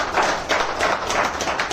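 A crowd of listeners applauds in steady, dense clapping, close and fairly loud, with no talking over it.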